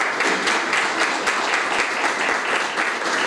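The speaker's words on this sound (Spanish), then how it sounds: "los vamos a tener que aplaudir" Audience at a course inauguration event applauding an instructor, dense steady clapping throughout, close and loud with no break.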